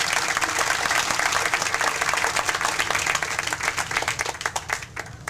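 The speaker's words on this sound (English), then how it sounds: "Let's give him a nice round of applause." An audience at a senior recreation center groundbreaking applauds State Representative Chuck Chestnut with dense, continuous clapping and scattered sharp claps, loud and close throughout.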